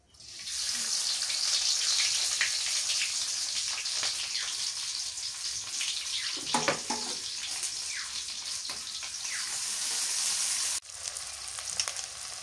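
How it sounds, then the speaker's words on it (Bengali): Beans, potato and dried fish fry in a pan with onion added, giving a steady, close, bright sizzle that runs almost unbroken, with a few crackles and a brief dip near the end. "সিম আলু শুক্তি দিয়ে ভেজে নেই পেঁয়াজ দিয়ে দিই"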